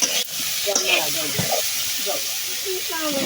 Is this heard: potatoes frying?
yes